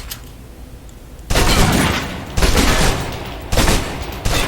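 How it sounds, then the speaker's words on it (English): Blind-fire gunshots at a target in Alpha Protocol come as three loud bursts of rapid shots, each lasting about a second, after a quiet stretch, with the start of another burst at the end. "Still using cover, take some shots at the target."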